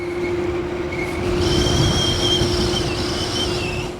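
An Inmotion RS Midnight Lite electric scooter on its single motor in mode 1 cruises at 19 mph, giving off a steady motor whine with high-pitched electric tones that rise and hold over a continuous rolling road rumble, with no talking.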